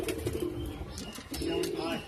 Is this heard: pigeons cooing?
yes